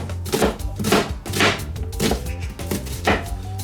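Knife chopping an onion into small pieces on a board, a series of sharp close thuds at an uneven rhythm, about eight strokes with short gaps between them.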